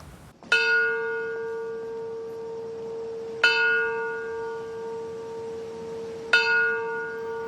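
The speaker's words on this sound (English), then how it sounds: "Bells toll in America's capital 3 times" Three loud bell strikes ring out at the 9/11 memorial in America's capital, evenly spaced about three seconds apart, each with a sharp attack and a long, shimmering decay over a quiet background.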